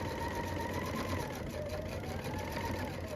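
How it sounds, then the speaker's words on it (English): A sewing machine runs steadily while stitching a quarter-inch seam to join two paper-pieced quilt units, with a short backstitch. The motor whirs continuously and evenly at close range throughout, with no talking. "I'm going to back stitch a couple and then stitch a 1/4 inch seam,"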